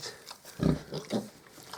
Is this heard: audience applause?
no